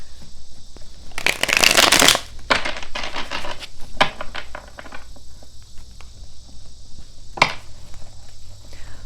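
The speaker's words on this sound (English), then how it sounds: "One more shuffle." A deck of tarot cards shuffled by hand, a dense riffling burst at first, then lighter, scattered flicks and taps that end in one sharp snap, close and clear with no talking.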